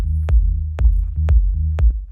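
Operator sine-wave FM synth bass under a kick drum programmed on the grid: four evenly spaced kick thumps, about half a second apart, punch through a sustained low bass tone that ducks with each hit.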